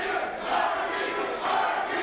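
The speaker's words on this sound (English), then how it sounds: "The crowd is now approving of Marky's moves." A professional wrestling crowd roars its approval at a PWA Invasion 2007 event, a steady wash of cheering voices from a packed arena, swelling slightly midway and holding.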